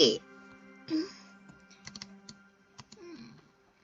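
Keys on a computer keyboard clack in a short burst of scattered taps while someone talks over them.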